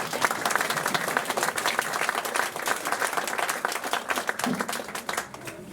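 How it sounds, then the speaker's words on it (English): An audience at a magic show gives steady applause for a volunteer named Oscar, a dense, continuous patter of many hands clapping for the full stretch, fairly loud and close. "Give Oscar another round of applause."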